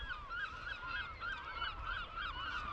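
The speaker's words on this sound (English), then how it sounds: "I believe these are Canadian geese" Canada geese honk over and over in a steady, overlapping chorus, loud and close, against a low rumble of wind on the Scottish coast by a World War 2 bunker.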